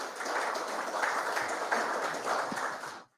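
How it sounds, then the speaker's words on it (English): A town hall audience applauds steadily, a dense wash of many hands clapping at close range for about three seconds before cutting off abruptly. "I want you to give yourself a round of applause for adhering to all the protocols"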